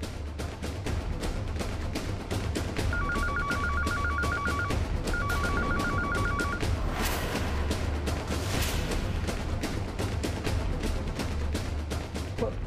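A telephone rings through an outgoing call home, two bursts of repeated ringback trill standing out above a steady, busy background hum with no voices over it.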